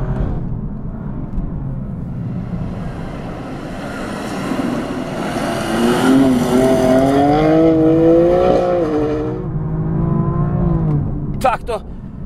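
A BMW M4 M Performance pushes hard along a forest rally-style road after a downshift, its engine roaring loudly and rising in pitch as it accelerates, with a brief clatter near the end.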